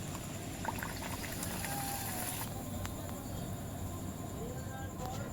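Puri dough dropped into hot oil for frying, making a steady, dense hiss and bubbling that stays even and fairly loud throughout, with a few faint clinks along the way.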